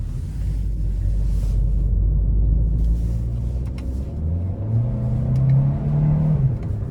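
A 2025 Hyundai Kona Limited's 1.6-liter turbocharged four-cylinder pulls hard from inside the cabin, its engine note climbing steadily in pitch over a low road rumble before easing off, with no one speaking.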